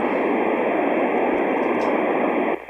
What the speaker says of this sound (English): listen to that white noise